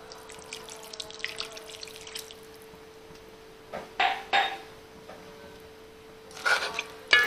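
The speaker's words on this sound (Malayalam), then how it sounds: "ഒരു അര ഗ്ലാസ് വെള്ളം കൂടി നമുക്ക് ഒഴിച്ചു കൊടുക്കാം." Half a glass of water is poured into a cooking pot of crab and tapioca biryani in two short splashing bursts over a quiet background, with faint clinks of utensils and no talking.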